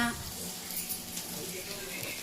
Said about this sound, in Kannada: ಲೋ ಫ್ಲೇಮಲ್ಲಿ ಇಟ್ಕೊಂಡು ಉರಿಕೊಳ್ತಾ ಇರಬೇಕು ಸ್ವಲ್ಪ ಅದೆಲ್ಲ ಬಾಡೈತೆ ಎಣ್ಣೆಲಿ ಫ್ರೈ ಆಗೈತೆ